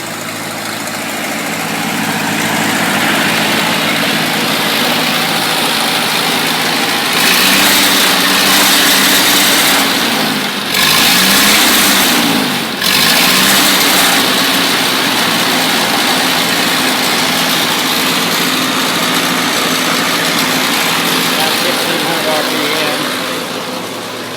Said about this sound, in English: There it is, there's the tractor. They're running on the gas fire.